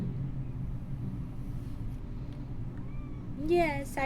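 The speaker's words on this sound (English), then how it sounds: "Yes, I hear you, kitty cat." A cat meows near the end, a short rising-falling call after a faint earlier mew, over a steady low rumble of background noise.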